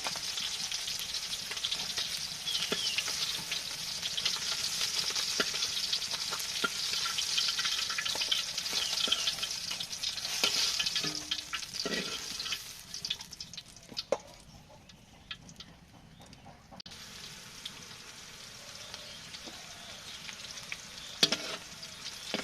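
Onions frying in a pan give a steady, dense sizzle for most of the stretch, with occasional clinks and stirring touches. The sizzle thins and quiets toward the end.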